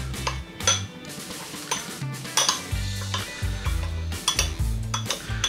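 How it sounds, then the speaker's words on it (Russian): A dry corn flour breading seasoned with paprika and a pinch of salt is stirred in a bowl, giving repeated scraping strokes and light clinks of the utensil against the dish. "в кукурузную муку добавляю паприку, щепотку соли и перемешиваю до однородной массы"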